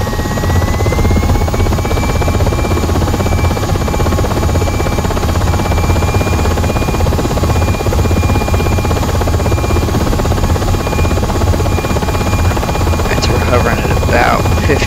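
A UH-60M helicopter in the Aerofly FS4 flight simulator holds a 10-foot hover, its rotor and turbine drone steady and loud throughout, with a high whine running above.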